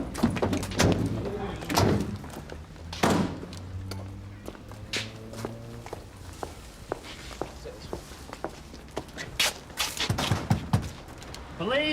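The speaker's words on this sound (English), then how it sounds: "you're the one who's knocking the door in, George." Police force a door in with several heavy, booming blows spread apart, mixed with thuds and shuffling, while people talk in between.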